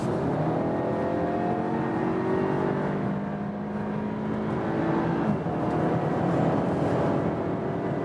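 An Audi A6 Avant estate in sport mode pulls hard from 100 to 150 km/h, a steady in-cabin engine and road drone rising in pitch over about eight seconds, with a brief dip midway as a gear changes.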